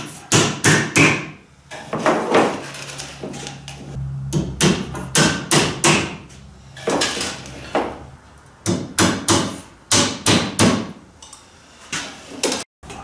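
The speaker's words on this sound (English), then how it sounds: "I'm just going to tack down my batten with some small finishing nails" Small finishing nails are hammered to tack a wooden batten onto an Acorn dinghy being planked, making a close, sharp series of hammer blows in quick bursts with short pauses between.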